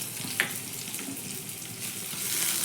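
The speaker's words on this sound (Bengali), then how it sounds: "এবার আদা আর কাঁচা লঙ্কাটাকে একটু নাড়াচাড়া করে ভেজে নেব" Green chili and grated ginger frying in a pan with oil, a continuous close sizzle and crackle with a few light pops, no voices.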